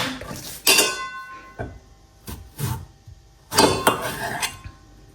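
Knife dicing cucumber straight on a hard surface with no chopping board: a few sharp, clattering knocks and clinks in irregular bursts, close by, with quiet gaps between.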